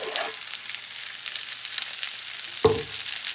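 Mushrooms, sliced garlic and onion sizzle in a hot pan on a stove at medium-high, a steady broadband crackle with a brief clunk near the end and no voices.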